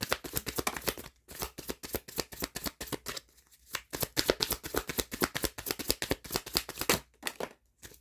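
Halloween tarot deck cards being shuffled and handled, a dense run of rapid riffling flicks with a few brief pauses, close and steady with no talking.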